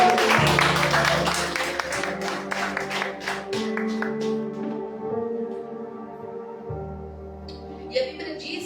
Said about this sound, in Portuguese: Eu quero que você dê uma salva de palmas para Jesus